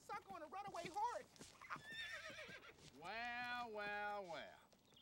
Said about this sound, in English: there's some poor sucker on a runaway horse